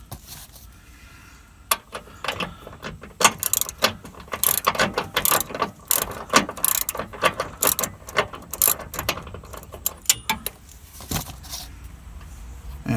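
Ratchet wrench unscrewing a nut on a worn car idler arm, rapid clicking pawl bursts in uneven strokes, close and loud, with light metallic clinks between turns.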